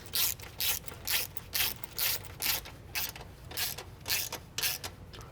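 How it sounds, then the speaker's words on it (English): A ratchet clicks through about ten even, back-and-forth strokes while tightening subframe bolts on a 2008–2013 BMW E90 M3 during an engine mount replacement. Each stroke gives a crisp burst of pawl clicks, close up with no talking. "I'm choked up on this ratchet, I'm not having to force it"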